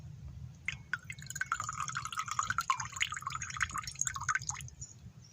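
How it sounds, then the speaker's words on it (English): Water drips and trickles back out of a hose inside a 1999 Toyota Sienna minivan camper, a fast patter of small, close drops that runs steadily for several seconds over a low background hum. "And the water come back out."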